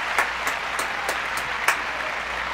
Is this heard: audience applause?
yes